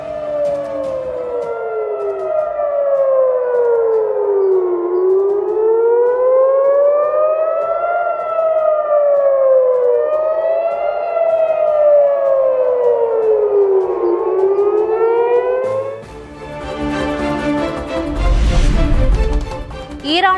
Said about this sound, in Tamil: டெல் அவீவ், ஜெருசலேம் நகரங்களில் சைரன் ஒலி மூலம் மக்களுக்கு எச்சரிக்கை.